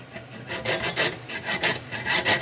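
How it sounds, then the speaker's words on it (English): Saw fitted with a hacksaw blade cutting through sheet material, a series of about nine rhythmic rasping strokes, close and fairly loud, with no talking. "it basically just looks like a normal saw, but with a hacksaw blade attached to the bottom of it"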